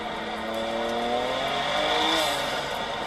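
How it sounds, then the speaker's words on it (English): Sustained high-revving car engine with tire squeal during a burnout, likely a turbocharged car, loud and continuous with a rising and falling pitch throughout and no talking. "Right there was burnout."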